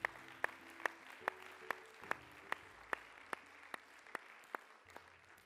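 A steady run of single handclaps, about thirteen evenly spaced sharp claps, comes from a speaker applauding the audience at a conference. The claps are crisp against a quiet room.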